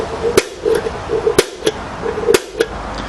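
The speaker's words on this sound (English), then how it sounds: "which generates a spark by bashing piezo crystal inside there" Piezo sparker fitted as the ignition on an M3 anti-tank gun, striking its crystal to make a spark: about half a dozen sharp, close clicks at irregular intervals over a faint background.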